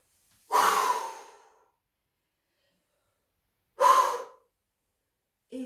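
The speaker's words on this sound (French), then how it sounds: "nous inspirons profondément par le nez" Two deep nasal inhales during a basic sophrology relaxation session, each a breathy rush that fades slowly, separated by a long silence, close and fairly soft, with the start of a third breath at the end.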